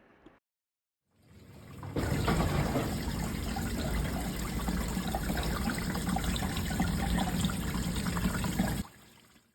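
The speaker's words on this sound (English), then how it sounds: "Now let's run our water through." Water starts flowing through a hydroponic farm stand after a brief silence, then runs and trickles steadily for several seconds before cutting off, fairly close.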